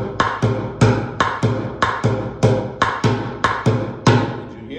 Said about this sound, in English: Remember, high is the rim, low is the middle of the bucket, and it sounds like this.